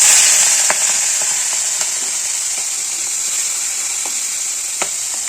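Fish frying in hot oil in a home kitchen, a steady bright sizzle with scattered sharp pops and crackles throughout, close and continuous.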